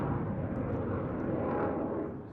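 A Danish F-16AM fighter jet performs a solo display at RIAT 2024, a loud, steady broadband roar of jet engine noise that holds throughout and eases slightly at the end.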